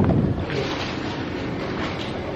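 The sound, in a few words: wind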